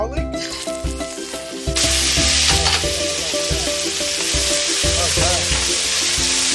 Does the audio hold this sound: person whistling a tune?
no